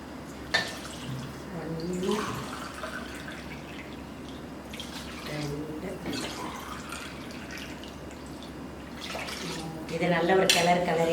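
Water poured from a tumbler onto basmati rice in a pressure cooker, splashing and trickling in several bursts while someone talks over it.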